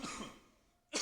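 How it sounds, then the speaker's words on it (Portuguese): A single close cough bursts out, fades into near silence, then a second sharp cough follows at the end. "eu ainda estou tossindo bastante"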